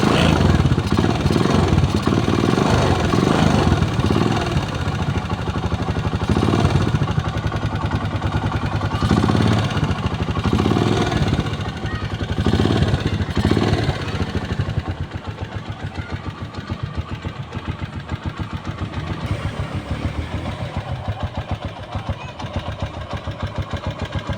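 A Rusi Nova SS 150 motorcycle engine runs after an air filter change, a steady close idle with a pulsing mid-pitched throb that shifts slightly in tone and holds for over twenty seconds.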